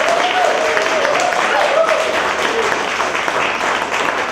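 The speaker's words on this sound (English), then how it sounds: "Let's give her another round of applause" An audience applauds at a startup fireside chat, a dense, steady wash of clapping that holds at an even level for several seconds with a faint voice partly audible beneath it.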